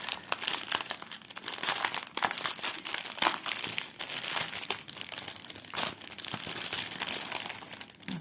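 Plastic packaging of a diamond painting kit, a zip pouch, crinkles and rustles steadily and close, with sharp crackles throughout and no talking.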